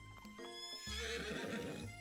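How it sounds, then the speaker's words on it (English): A horse whinnies in the KFC dating sim video game, a rising, wavering neigh close up, joined by clip-clopping hooves, with no talk over it. "His horse does a short dance before dismounting with a flourish."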